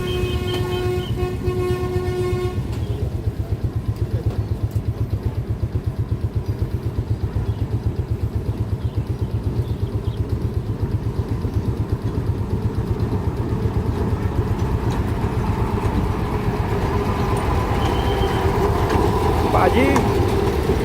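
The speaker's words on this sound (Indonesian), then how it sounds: "Kereta wisata akan segera melewati jalur ini." A tourist lorry train of passenger wagons passes a level crossing in sugarcane fields, with a horn toot at the start, then a steady loud rumble and rhythmic clatter of wheels that continues throughout, with voices talking over it.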